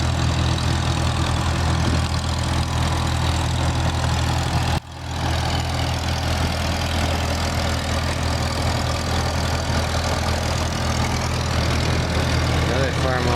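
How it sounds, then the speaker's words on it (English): A Farmall Super M tractor engine runs steadily at a steam-era show, a loud, continuous low rumble with a brief dip partway through, then carrying on unchanged. "You got a Farmall Super M coming down here."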